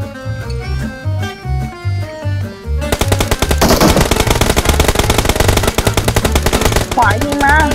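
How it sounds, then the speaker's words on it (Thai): Rapid automatic gunfire in a video game, loud and continuous, breaking in after a few seconds of game music and then hammering on in a dense stream of shots. "ขวายิงมา"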